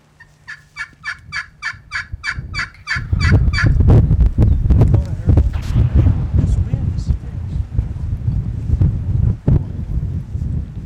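A Merriam's wild turkey in Colorado lets out a quick series of rhythmic, warbling calls, then strong gusty wind roars across the microphone, burying everything else.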